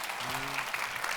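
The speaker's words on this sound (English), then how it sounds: "Let's give them a round of applause" An audience applauding chefs cooking on stage at a food festival, a short burst of dense clapping from a crowd, with a faint voice briefly audible underneath.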